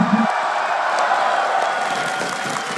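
A large esports arena crowd roars and applauds continuously at a CS:GO semifinal in Katowice, a dense, loud, sustained wash of cheering with no clear breaks.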